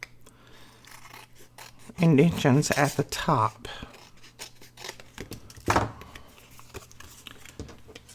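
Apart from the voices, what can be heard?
trimming paper tag toppers with scissors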